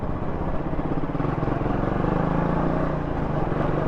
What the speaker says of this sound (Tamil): ஈஸியாக வந்து ஸ்ப்ரிண்ட் ஆகுது, சரசரன்னு போகுது வண்டி உண்மையாலுமே